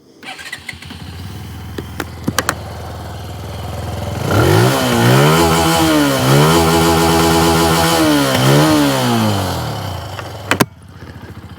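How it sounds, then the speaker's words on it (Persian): A Benelli TNT 150i motorcycle engine idles with a few sharp clicks, then revs up loudly in repeated rising and falling bursts before dropping back, close by and alone. "بریم یه صدایی هم از این موتور بشنویم"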